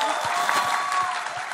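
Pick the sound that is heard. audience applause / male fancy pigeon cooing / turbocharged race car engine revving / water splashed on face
audience applause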